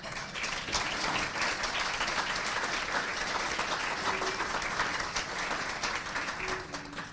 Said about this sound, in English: how about a big round of applause for our city?